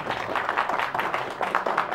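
An audience claps in welcome for the popular couple Palsa and Mallika Mahat, a steady, moderately loud patter of many hands sustained throughout.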